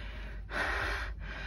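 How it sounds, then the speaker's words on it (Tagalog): A person breathes hard and audibly after physical exertion, a few heavy breaths close up, with one louder, longer exhalation in the middle and no talking. "Hinihingal pa rin ako."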